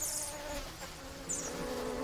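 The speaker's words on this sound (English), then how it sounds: "Where's that buzzing again?" In the Green Hell jungle survival game, an insect buzzes faintly and steadily against a low ambient backdrop. The drone wavers slightly as the insect hovers nearby, and no one speaks.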